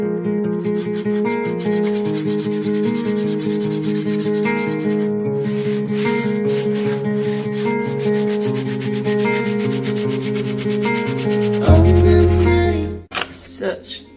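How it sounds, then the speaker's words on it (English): Hand sanding on wooden furniture in awkward spots makes a continuous rubbing scrape, steady and close, with a tonal musical layer running underneath. "making sure it's all sanded in all of these, you know, awkward areas that my sander can't reach"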